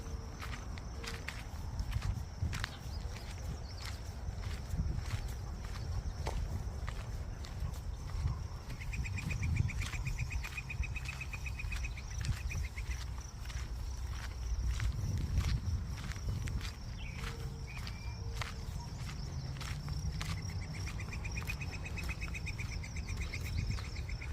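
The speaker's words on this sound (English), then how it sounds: "hopefully you can pick up the awesome, beautiful, you know, song of all the different types of birds out here" Outdoor ambience with scattered bird chirps and calls over a steady rumble and shuffling footsteps, birds fairly distant and intermittent.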